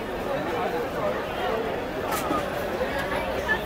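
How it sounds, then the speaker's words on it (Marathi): A packed evening crowd on Mohammed Ali Road, Mumbai, fills the air with dense, continuous babble of many overlapping voices and street bustle, loud and close all around. "खूपच गर्दी आहे आज."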